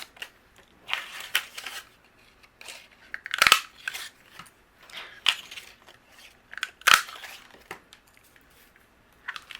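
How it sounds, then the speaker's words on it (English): Sharp, crunchy snaps of a 1-inch circle punch cutting through colored paper, several separate punches spaced irregularly with quieter handling rustle between, close and fairly loud, no talking. "I'm going to punch out a circle with each one of these colors."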